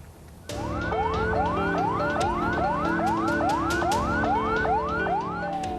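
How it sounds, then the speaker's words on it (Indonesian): A queue of ambulances carrying COVID-19 bodies into a cemetery, with a loud wailing siren starting abruptly and sweeping up and down in a rapid repeating cycle, alone and steady. "Inilah antrean ambulans yang membawa jenazah pasien COVID-19."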